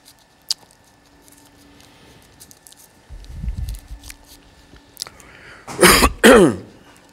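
A man clears his throat with a deep rough rumble, then coughs twice loudly and close, after a few faint clicks and small mouth noises in a quiet room.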